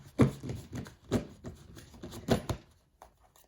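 A Native American tarot deck is shuffled by hand and snapped together with a clap, giving several short, close riffling bursts with brief pauses between them, fairly quiet and with no voices.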